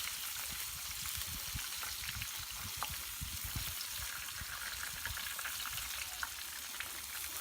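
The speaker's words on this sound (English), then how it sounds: "Love that sound of frying." Smash burger patties fry on a hot surface with a steady, close crackling sizzle and fine popping. It is fairly soft and runs unbroken throughout with no voices.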